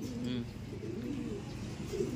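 Pigeons cooing in low, throaty, repeated coos at close range, with faint bird chatter in the background of a pigeon loft in Tagudin, Ilocos Sur.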